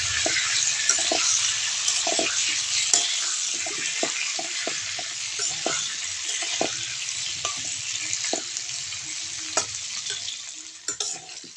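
Steady oil sizzle of flat beans and potatoes frying in a pan, with frequent clinks and scrapes of a spatula stirring throughout.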